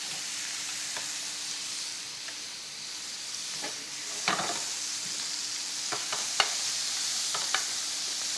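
Beef for a sandwich cooking in a pan with butter gives a steady, even sizzle and hiss, with a few soft stirring taps scattered through and no voices.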